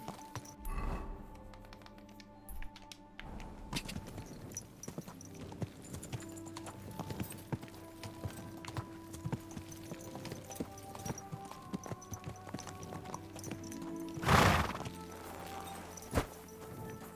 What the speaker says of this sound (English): Anyone want to buy a nice horse?